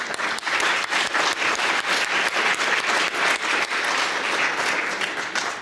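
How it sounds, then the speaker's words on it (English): Dense, sustained applause from a conference audience welcoming visiting buyers from China, steady and loud throughout with no talk over it. "So I think they deserve a round of applause, ladies and gentlemen."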